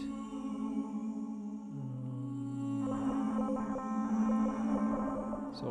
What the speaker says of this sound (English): So I have a frequency and some noise, and I modulate it with the double frequency, half the frequency, and some other things.